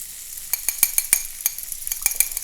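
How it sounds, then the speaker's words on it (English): A beaten egg whisked in a bowl for a carbonara sauce, a quick run of light, close clicking and tapping strokes in an uneven rhythm, with no talking. "I'm going to crack one egg in there, and then I'm going to whisk it together"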